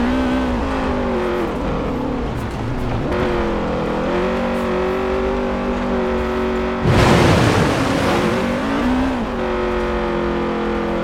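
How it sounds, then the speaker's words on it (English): A Honda CRX VTEC engine in Forza Horizon 4 revs hard and loud through rising and falling gear pulls, with a sharp burst of noise midway, playing continuously without voices. "That's one of the reasons I love the CRX, because it sounds, the VTEC sound is so good."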